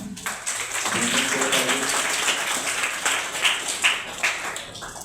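An audience at a school speech competition applauds the organising committee, a moderate round of clapping from a crowd in a hall, with a little voice mixed in.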